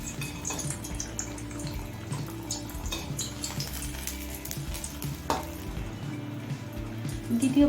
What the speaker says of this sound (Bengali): আরও একটা মালপোয়া ভেজে আমি আপনাদের দেখিয়ে দিচ্ছি